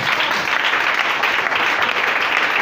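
A church congregation applauds and acclaims during a morning service, a loud, dense, continuous wash of clapping with no break.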